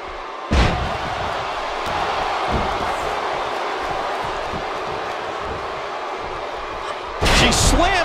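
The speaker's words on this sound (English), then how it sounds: "Slams her down with great force." A female wrestler slams her opponent to the mat in the WWE 2K18 wrestling video game, a sharp heavy impact followed by sustained arena crowd roar, with a second loud burst near the end.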